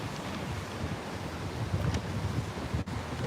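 Wind gusting on a chilly New York City street, a steady broadband roar with rumbling buffets against the microphone throughout, no talking.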